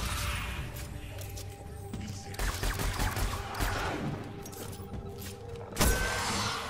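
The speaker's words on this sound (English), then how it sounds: "He's trying to kill me with a sniper rifle." Gunfire in the video game Destiny 2, with sharp shots cracking over a busy layer of combat noise and rumble, one loud report standing out near the end.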